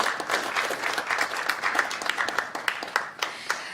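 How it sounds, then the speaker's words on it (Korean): Applause from an audience at a Liberty Korea Party economic advisory team launch event, dense steady clapping that trails off toward the end, with no talking over it. "큰 박수 부탁드립니다"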